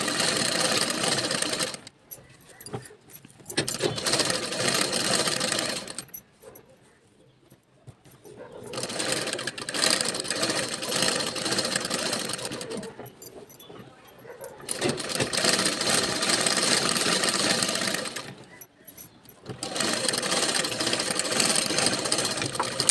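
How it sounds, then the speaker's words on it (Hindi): A sewing machine stitching the lining to the main fabric at a blouse back neck, running in several long whirring bursts separated by short pauses, close and loud. "अब हम इस पर सिलाई लगा देंगे"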